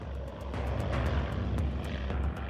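An airplane flying over two German ships at the Bergen anchorage, a steady low engine drone with a rough rumbling texture and faint ticking clicks, distant and continuous, no talk.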